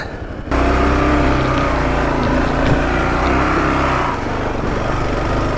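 A Kawasaki KLR650 single-cylinder motorcycle climbs a slippery off-road slope, its engine revving hard and steady at close range for several seconds before the drone eases slightly near the end.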